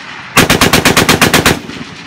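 An M1919 .30 caliber machine gun fires one close, loud burst of about ten rapid shots in an even rhythm, then stops with a brief ringing decay.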